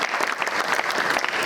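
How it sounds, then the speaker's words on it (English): Audience applause at a university closing ceremony, a steady, dense burst of many hands clapping close and loud, with no pauses across its length. "clap for these people"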